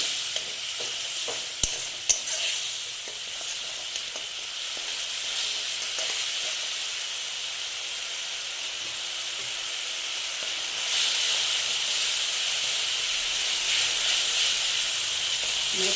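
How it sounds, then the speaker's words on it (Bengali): Spice paste for aloo dum frying in a pan with a splash of water, giving a steady, even sizzle throughout, with a few scraping stirs early on and a slight rise in hiss near the end. "মশলাটা প্রায় ভাজা হয়ে এসছে"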